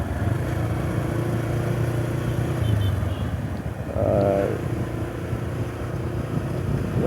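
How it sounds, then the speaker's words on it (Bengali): A TVS Raider motorcycle with a cracked exhaust drones steadily while being ridden on a quiet road in cool weather, its rough engine note loud and continuous throughout. "আমার বাইকের সাউন্ড হঠাৎ ফেটে গিয়েছে, বুঝতেছি না আসলে কেন সাউন্ডটা ফেটে গেল।"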